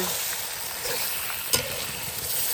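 Tengra fish frying in a pan on a stove in the Sundarbans, a steady soft sizzle with occasional sharper crackles and one brief louder pop.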